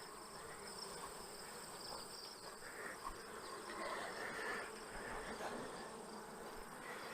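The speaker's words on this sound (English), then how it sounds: "Come and work the bees a little bit, even though I really don't have to" Honeybees swarm around a beehive in a steady, continuous buzz, a dense hum without pauses that stays fairly faint throughout.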